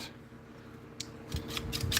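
Dull scissors are handled before sharpening on a KME sharpener, giving a few faint metallic snips and clicks near the end of a quiet stretch.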